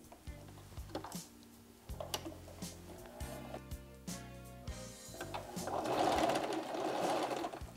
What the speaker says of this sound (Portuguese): Retrocesso na máquina para segurar a costura.